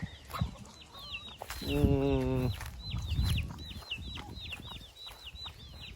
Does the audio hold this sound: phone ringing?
no